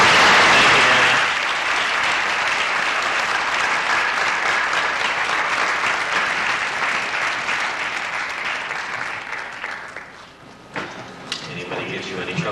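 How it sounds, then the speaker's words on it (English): An audience applauds at a 1991 spelling bee in Bloomington, sustained clapping from a crowded hall that thins and fades toward the end, with a few scattered claps and some background murmur. "We'd like to excuse those who have missed this last round with a round of applause"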